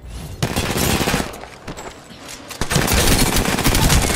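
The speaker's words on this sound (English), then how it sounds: "I'm getting shot at." Rapid bursts of automatic gunfire in Apex Legends, a video game battle, loud and close, with a brief lull midway before heavy shooting resumes to the end.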